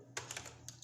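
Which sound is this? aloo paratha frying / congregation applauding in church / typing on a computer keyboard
typing on a computer keyboard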